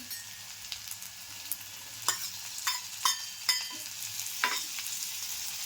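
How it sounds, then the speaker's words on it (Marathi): Ginger garlic paste with chili powder, Kashmiri chili and garam masala frying in oil hisses quietly and steadily, broken by several sharp spatula taps and scrapes against the pan. "अद्रक लसूण पेस्ट, सगळं जरा छान तेलात फ्राय करा"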